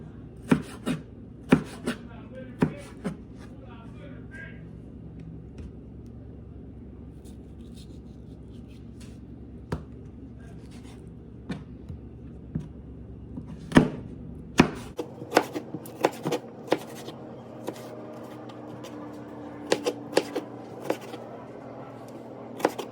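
A knife chops ceviche ingredients into small pieces on a board, a long run of sharp, close taps that start sparse and quicken into steadier, denser chopping later on.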